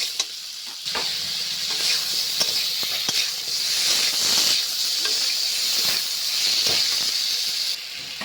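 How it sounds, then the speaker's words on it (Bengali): Potato, bitter gourd, pointed gourd and eggplant sautéing with spices in a pan for Bengali shukto, giving a steady close hiss and sizzle with occasional soft stirring scrapes. "তারপর আলু, উচ্ছে, পটল, বেগুন সব একসঙ্গে দিয়ে কষে নেব"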